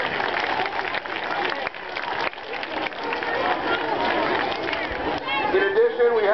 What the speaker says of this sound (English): So a special round of applause to all of our parent volunteers.